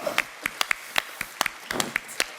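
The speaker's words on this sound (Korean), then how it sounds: "박수 한번 주세요." Sparse applause from a church congregation during a sermon: a handful of separate claps spread unevenly across the moment, moderately loud and fairly close, with no talking over them.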